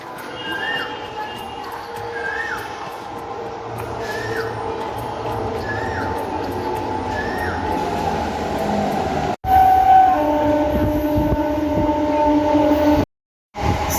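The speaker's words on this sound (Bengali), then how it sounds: "এই ট্রেন আসছে।" A passenger train arrives at a station with a steady low rumble, rhythmic clatter and squealing wheels, joined later by a long horn-like tone; loud and continuous.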